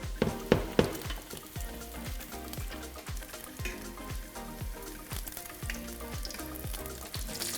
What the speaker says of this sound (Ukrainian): наливаємо олію в гарячу ємність і перекладаємо туди часник, додаємо туди зіру